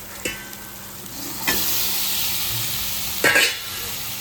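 Onion, tomato and spices sizzling in a pan, a steady frying hiss broken by a few sharp stirring clatters, close and alone.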